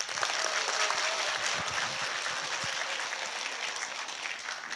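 Dense, even applause fills a hall from an audience at an investment strategy lecture, a steady rushing wash of many hands clapping together at a moderate distance, with no talk over it.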